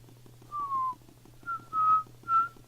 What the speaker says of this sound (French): Et là c'est Luigi qui siffle.